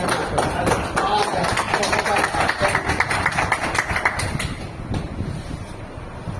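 An audience claps at a monthly branch meeting in Bhatni, with a quick run of sharp, scattered hand claps under a speaker's voice that fade toward the end.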